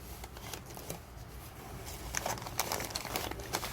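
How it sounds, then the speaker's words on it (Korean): Packaging crinkles and rustles as a box of succulent plants is unboxed, with close, quiet crackling and paper handling that grows busier toward the end, and no talk. "하나하나 설명하면서 또 언박싱 시작하겠습니다."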